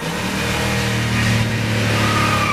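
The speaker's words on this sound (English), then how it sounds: "He hits the gas of the truck." A truck engine revs hard as the gas pedal is floored, a loud, steady growl that climbs slightly in pitch over a couple of seconds, close and continuous.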